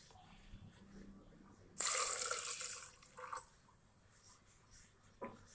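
A short burst of cold water pouring into a container, loud for about a second and a half, followed by a couple of small splashes and quiet.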